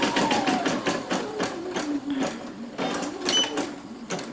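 A Poolin embroidery machine sews satin stitches in a steady, rapid mechanical rhythm of needle strikes, loud and close, with no talking over it.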